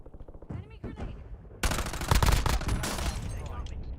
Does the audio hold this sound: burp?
no